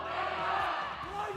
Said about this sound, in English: You hear the crowd.